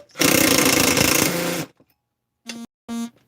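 An impact wrench on the crankcase bolts of a 372 engine: one loud, close, sustained hammering rattle of about a second and a half, a brief pause, then two short bursts.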